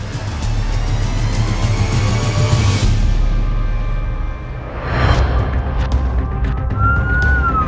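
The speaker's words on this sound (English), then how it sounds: "Under lights and sirens, Taz and Amanda are rushing diabetic patient Paul to hospital" An ambulance siren wails steadily under loud, continuous engine and road rumble, with a rising tone emerging near the end.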